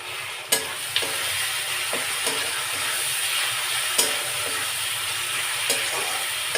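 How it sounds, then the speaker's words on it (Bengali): Ginger garlic paste sizzles in oil in a pan, a continuous close crackle and hiss punctuated by occasional sharp taps of a spoon against the pan. "যতক্ষণ না আদা রসুনের কাঁচা গন্ধটা একটু চলে যায় ততক্ষণ আমি এটা একটুখানি ভাজবো"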